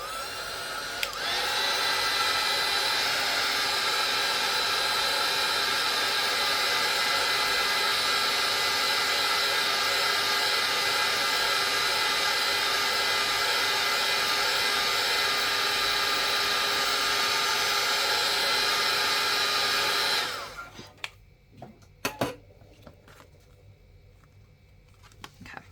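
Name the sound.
heat gun blowing on mini art piece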